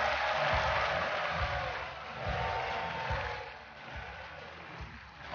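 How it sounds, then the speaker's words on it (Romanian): Strong applause from a comedy club audience greeting two performers onto the stage, a broad continuous roar of clapping that stays loud before easing slightly, with low rumbling underneath. "Haideți să le primim cu aplauze puternice pe Ruxandra și Roxana!"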